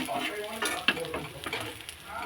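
Food sizzles and fries in a kadai while a utensil stirs it, with soft scraping strokes over a close, steady hiss for a couple of seconds.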